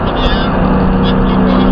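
A Ford Mustang Mach 1 on a racetrack during an owners' track program gives a steady, loud engine drone heard from inside the car, constant throughout with no break.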